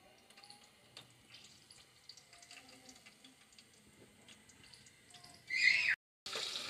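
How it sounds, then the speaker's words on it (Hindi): Green chillies stuffed with gram flour go into hot oil in a kadhai. Quiet, faint bubbling gives way near the end to a sudden loud burst of hissing sizzle. "मैंने सारी मिर्चें कढ़ाई में ऑयल में डाल दी हैं"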